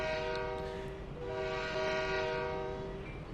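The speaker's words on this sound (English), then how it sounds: "Then let's listen to that beautiful train horn." Train horn in the Train Sim 2020 video game, a steady chorded blast held for several seconds with a brief dip near the start, over the rumble of the moving train.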